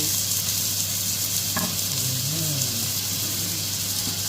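Loud, continuous sizzling of ginger and garlic frying in hot oil, close up, with a brief clatter of stirring partway through.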